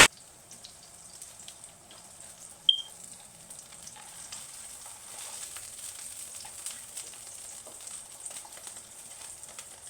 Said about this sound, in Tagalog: Akala ko nga guys hindi nga tumatalansik yung hotdog pero sa umpisa pa lang ay tumatalansik na